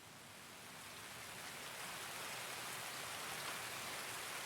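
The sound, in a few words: rain in video game Escape from Tarkov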